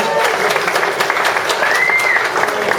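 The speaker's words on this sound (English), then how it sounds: "Round of applause, Max Bedford." An audience gives a round of applause at a This Is Your Life style event, loud, continuous clapping close by with a brief whistle rising through it near the end.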